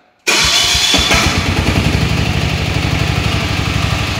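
A hydraulic digger's engine cranks over and catches, then settles into a steady, loud, close rumbling idle with hand throttle applied, running alone without talk.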